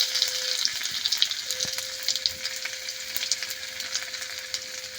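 Cumin seeds and finely chopped ginger frying in hot oil for a vegetarian curry, a steady close sizzle with crackling pops throughout, no voices.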